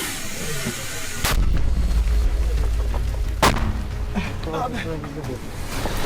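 Two sharp, heavy mortar blasts from a Ukrainian firing position a couple of seconds apart, with a deep rumbling boom after the first and voices around.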